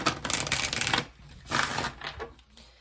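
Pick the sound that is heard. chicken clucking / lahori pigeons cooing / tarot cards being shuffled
tarot cards being shuffled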